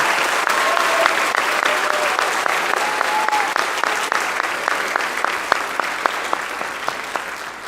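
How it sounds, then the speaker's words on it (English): A school band concert audience gives students a round of applause after an award, steady dense clapping filling the room throughout with a few sharper close claps standing out. "Please, let's give all these students one more round of applause for receiving this award."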